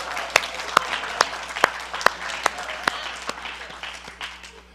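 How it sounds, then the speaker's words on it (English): Church congregation clapping in a sharp, regular rhythm, about a dozen crisp claps spaced evenly and fading slightly toward the end over a faint room background. "Give her a hand clap."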